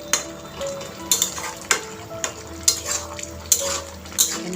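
A spoon stirring chana masala spices through sizzling food in a frying pan, with a soft steady sizzle broken by regular metallic scrapes and clinks about once per second, close and alone.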